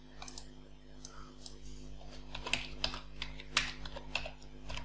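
Irregular clicking keystrokes on a computer keyboard while typing text, clustered in quick bursts over a steady low electrical hum.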